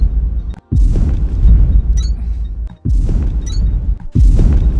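Explosives detonating in the factory-building game Techtonica, a series of loud, deep booms with rumbling tails, three or four blasts spaced a couple of seconds apart, close and heavy.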